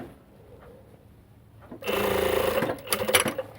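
An industrial sewing machine stitches a sleeve onto a knit cardigan, starting suddenly after a quiet moment as a fast, close, steady mechanical whir with rattling pulses that continues to the end.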